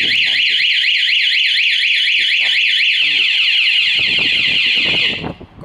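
A Honda MSX125 motorcycle's anti-theft alarm wails loudly with a rapid warbling siren, continuous for about five seconds before cutting off abruptly, with faint low rumbling underneath.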